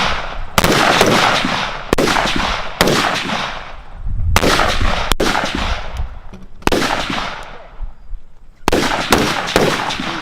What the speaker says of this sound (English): First time shooting an AR in the range today